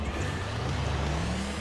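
Toy-like cars in the racing game Mini Car Racing 2 drone with a steady engine hum that rises in pitch, loud and continuous with no talk.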